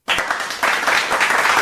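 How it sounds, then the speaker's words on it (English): An audience breaks into a sudden burst of applause, loud and dense clapping that starts abruptly and holds steady throughout. "Yeah, that's right. Applaud for it."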